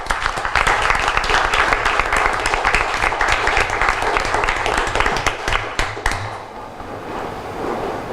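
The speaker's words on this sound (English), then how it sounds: "we can give you a round of applause for your efforts" Applause for young ladies and gentlemen at a council meeting: a sustained crowd clapping fills the room loud and steady for about six seconds, then thins out and fades.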